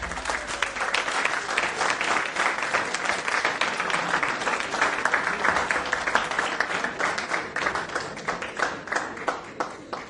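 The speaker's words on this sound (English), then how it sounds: "Don't clap quite so often, otherwise you are left with claptrap" An audience applauds at a lecture on Vedic civilization, with dense, sustained clapping that stays loud and even throughout and no speech over it.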